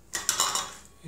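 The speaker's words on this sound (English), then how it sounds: "So just cut them up, slice between the joints" A few sharp clinks and scrapes of a knife against a plate or board as buffalo wings are cut apart between the joints, three or four quick close strokes and then quiet.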